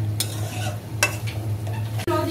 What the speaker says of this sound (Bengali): এখন একটু ভালো করে নাড়াচাড়া দিয়ে